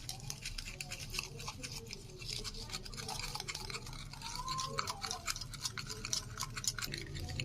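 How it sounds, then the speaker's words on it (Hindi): A spoon stirs and squishes a chicken tikka marinade of oil, salt, black and white pepper and ground coriander in a bowl, giving faint, wet, scraping and clicking sounds in a quiet kitchen. "इसको अब हम मिक्स कर लेंगे"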